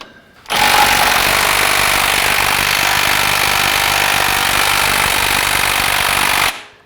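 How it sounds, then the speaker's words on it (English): A large impact wrench on a 2000 Acura Integra hammers loose the 19 mm crankshaft pulley bolt, a loud, close, continuous rattling burst lasting about six seconds before cutting off abruptly. "Now I like using an impact for this because it works very quickly."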